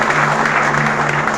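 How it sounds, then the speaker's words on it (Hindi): A large audience at a motivational seminar in India bursts into loud, sustained applause, dense continuous clapping filling the whole stretch with no talking over it. "एक बार ताली अपने लिए जोरदार बजा लीजिए।"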